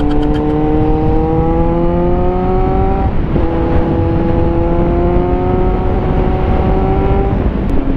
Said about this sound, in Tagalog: Dito mas nabibingin na naman ako sa exhaust eh.